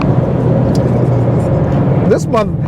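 A Ford Mustang drift car fitted with an angle kit and roll cage drives past with a loud, steady engine roar throughout, ending in a brief rising whine near the close.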